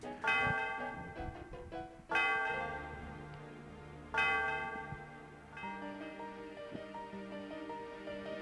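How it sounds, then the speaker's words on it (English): The Celestial Bell in Pokemon Black is rung, three clear resonant bell strikes about two seconds apart, each ringing out with a long shimmering decay, followed by a softer sustained chime over a low game-music drone. "by ringing this bell. It's the Celestial Bell."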